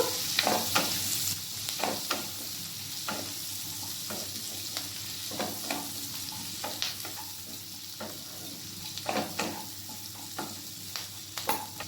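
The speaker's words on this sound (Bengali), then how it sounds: "আর তার সাথে কেটে রাখা পেঁয়াজটা দিয়ে দিচ্ছি, রসুন আর আদাটা দিয়ে দিচ্ছি। এরপর এগুলোকে হালকা করে ভেজে নেব।" Chopped onion, garlic and ginger fry gently in a pan with dried chilli, a soft continuous sizzle broken by frequent sharp scrapes and taps of a spatula, close and moderately quiet.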